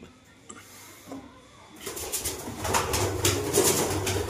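Pigeons on a farm coo softly in low, rolling calls, then a busier stretch of rustling and fluttering builds alongside the cooing.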